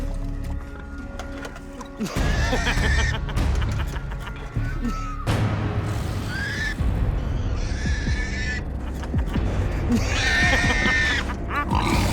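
Pigs grunting and snorting loudly and close, in repeated rough bursts over several seconds, with clattering movement and trough noises mixed in.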